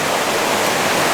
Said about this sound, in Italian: dove ci sono cascatelle c'è sempre il rumore di acqua.